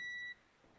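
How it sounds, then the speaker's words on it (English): A steady electronic beep tone holds for about a third of a second, then cuts off, leaving faint background noise. "Sorry about the beeping."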